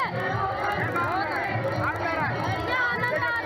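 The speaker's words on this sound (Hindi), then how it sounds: "बहुत भीड़ है।" Loud, steady hubbub of a packed crowd at Holi celebrations in the Krishna Janmabhoomi complex, Mathura, with many overlapping voices and occasional shouts rising out of the babble.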